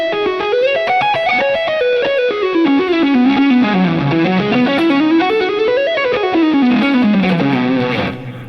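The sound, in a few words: electric guitar through dual delay effect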